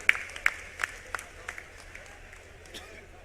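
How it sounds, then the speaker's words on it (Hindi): Scattered claps welcome a guest at a political rally, a few sharp hand claps early on that thin out into faint, sparse applause under background crowd noise. "एक बार जोरदार तालियां बजा करके इनका स्वागत और अभिनंदन"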